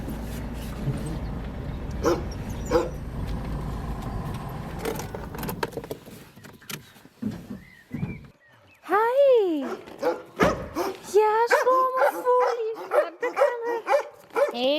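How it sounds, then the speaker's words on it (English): Several dogs bark, yip and whimper in excited bursts, loud and close, with rustling and movement noise earlier on. "I just didn't want to deal with all the dogs"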